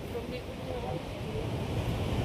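Heavy surf from big waves during typhoon Uwan rolls as a continuous low roar mixed with gusting wind noise on the microphone, fairly faint and steady.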